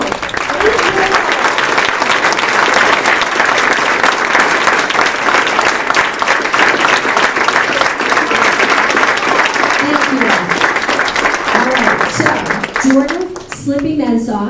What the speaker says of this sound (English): I want everybody to stand up and applaud this young man.